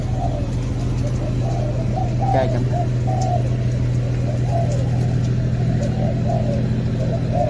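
Pigeons cooing close by in repeated soft low calls, set against a constant engine-like hum and a brief louder rustle, with a few words spoken in Vietnamese.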